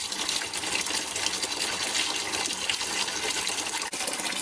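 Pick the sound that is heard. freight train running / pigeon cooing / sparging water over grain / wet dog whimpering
sparging water over grain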